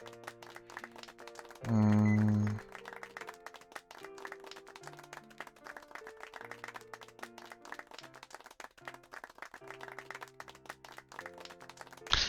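Repeated rhythmic hand claps patter throughout, like a small round of applause in the visual novel game Aokana, over steady tonal background music, with a brief louder burst early on.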